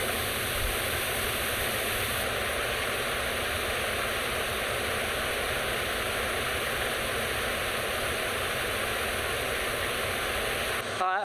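Josephine Falls in Far North Queensland roars steadily as a constant, dense wash of falling water that stays loud and unchanging throughout.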